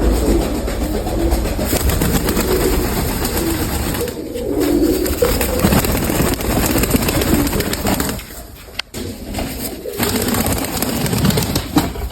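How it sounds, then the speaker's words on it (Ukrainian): Pigeons, including slate-blue and beaded young birds from a Mykolaiv loft, make a busy cooing chorus over steady dense background noise throughout, with brief dips in level. "Бісерні голубята"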